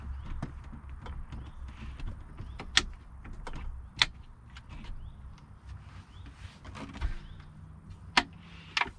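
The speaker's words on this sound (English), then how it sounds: "this table can quickly be removed. Just undo the brackets." Brackets are undone to remove a table inside a converted VW T5 camper van, making a run of scattered clicks, knocks and light metallic clunks close by over a quiet background.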